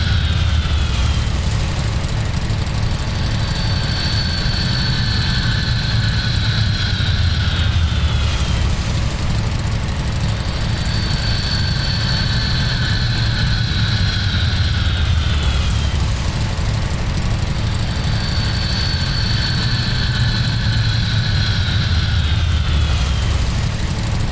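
Jet engine sound in a flight simulator video game, a continuous droning roar with a cyclic whine that sweeps down and repeats several times, steady and fairly loud throughout.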